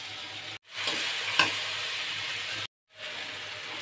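Spices go into fried garlic and onion in a pan, setting off a loud, close, continuous sizzle broken by a couple of brief cuts, with a sharp stirring clack partway through.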